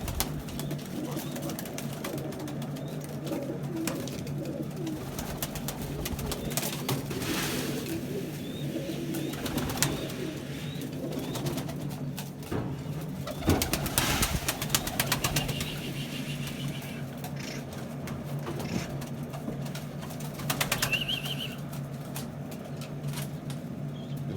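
Pigeons coo at feeding time, a dense chorus of low cooing from several birds close by, with occasional wing flaps and rustling and faint human voices in the background.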